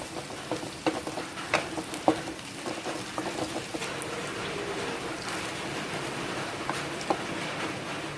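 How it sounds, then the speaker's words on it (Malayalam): Shallots and curry leaves sauté in hot oil in a pan for a beef curry, giving a steady close sizzle broken by scattered clicks and scrapes from stirring, with no voices. "ചെറിയുള്ളിയും കറിവേപ്പില നന്നായി മുരിഞ്ഞു വരട്ടെ"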